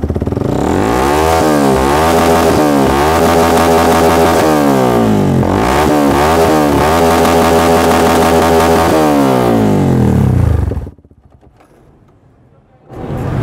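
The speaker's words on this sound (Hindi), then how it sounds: "अब इसे रेव करके देखते हैं।" A 150cc Yamaha R15 motorcycle with a Yoshimura exhaust revs loudly and close by, climbing and falling through several sharp throttle blips over about ten seconds before cutting to near silence.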